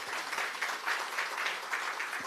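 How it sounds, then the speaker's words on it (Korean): Applause from the audience at a talk concert on overcoming COVID-19, continuous moderate clapping from a crowd with a gently pulsing rhythm, heard alone without speech. "박수 한번 해주시기 바랍니다."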